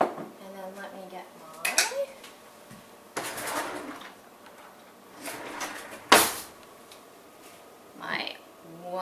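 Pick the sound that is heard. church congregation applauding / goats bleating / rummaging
rummaging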